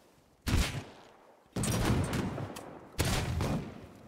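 Gunfire in the video game Rust: three loud, sharp bursts of shots, each trailing off over a fraction of a second, with no voices over them.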